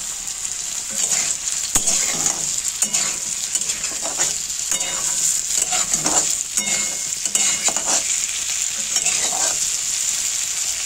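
Potatoes frying in a pan give a continuous loud sizzle, with repeated scraping stirs breaking through it at intervals. The sound is close, with no voices.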